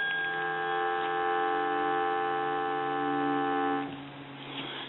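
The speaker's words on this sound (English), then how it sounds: "Give you some dial tone." A steady, buzzing dial tone from a Western Electric rotary desk telephone holds for several seconds, then cuts off, leaving faint background noise.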